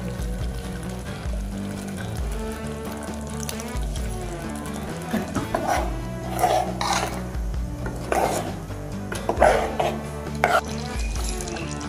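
Ground spice paste goes into a pot of simmering eggplant gravy with a series of spoon clinks and scrapes against the metal, a soft sputter of cooking underneath and steady background music throughout.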